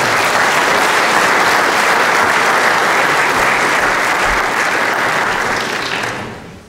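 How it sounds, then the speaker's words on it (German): A large lecture audience bursts into loud, dense applause after a speaker is introduced, sustained evenly for several seconds before fading out at the end. "Einen großen Applaus"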